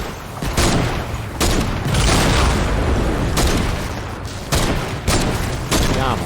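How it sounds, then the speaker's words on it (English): Exploder enemies blowing up in Fortnite Save the World, with loud booming blasts and crackling bursts arriving in several waves, close and heavy, over continuous game noise. "we got a few exploders"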